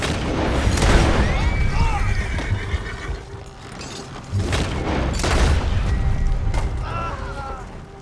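Gunshots boom amid a Wild West shootout in the Red Dead Redemption 2 video game, with horses whinnying loudly nearby and a few scattered blasts across the scene.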